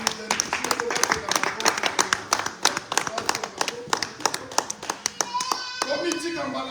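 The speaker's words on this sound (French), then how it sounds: "Nous allons juste acclamer pour eux parce que c'est pour nous." Church congregation clapping to welcome a pastor's family, a dense run of sharp, fast hand claps close by for several seconds before it thins out and voices carry on underneath.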